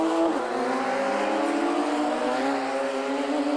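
Radical race cars brake toward the left-hander at Goddard's on the Donington GP circuit, a loud continuous engine roar with falling pitch as they slow, heard up close and without talk.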